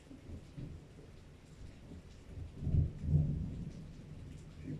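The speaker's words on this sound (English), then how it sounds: "Even though it's raining" Steady rain falls in the background while low rumbles of thunder roll in twice, swelling and fading.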